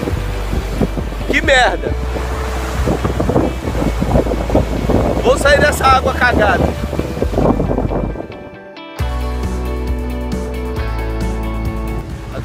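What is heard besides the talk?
wind blowing at beach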